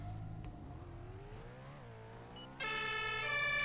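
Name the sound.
emergency vehicle siren from a video game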